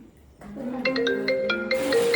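A mobile phone ringtone plays a bright, repeating electronic melody that rises over a low household background at a birthday gathering, growing steadily louder and filling the room.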